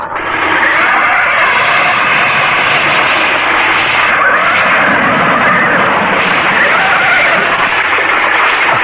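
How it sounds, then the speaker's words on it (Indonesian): Trees crash down in a storm in a radio drama sound effect: a loud, dense, continuous roar of wind and crashing with no pauses throughout. "pohon-pohon di hutan sebelah sana itu ada roboh. Seperti ada angin topan."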